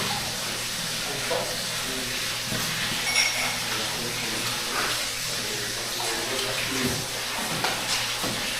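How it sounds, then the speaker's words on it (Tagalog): Water runs steadily at a campsite, a continuous close splashing hiss like a tap pouring, with faint voices in the background throughout. "Tingin tayo tubig."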